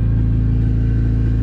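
Turbocharged Honda Civic engine idles with a steady, loud, even low rumble, close up and unbroken, no voices present.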